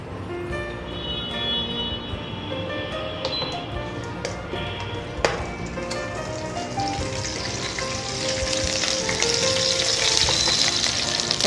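Curry leaves crackle and sizzle in melted Dalda, a steady near frying hiss with scattered sharp pops that grows louder and denser toward the end.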